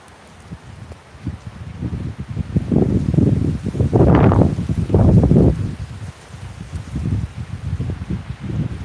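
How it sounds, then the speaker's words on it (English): Strong wind blowing outdoors at night, gusting in waves of buffeting roar across the microphone that rise to a peak midway and then subside. "Wind is fierce."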